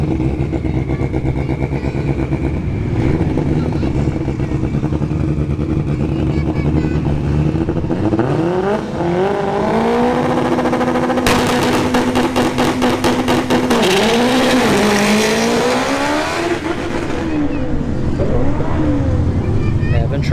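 An Acura RSX drag car launches down a dragstrip with its engine climbing through the revs in long rising sweeps and a gear change partway through, loud, close and continuous for about twenty seconds.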